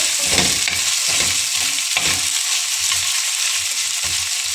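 Ginger garlic paste fries in a pan for Andhra-style chilli chicken, a loud constant sizzle with regular scraping strokes of a spoon stirring through it.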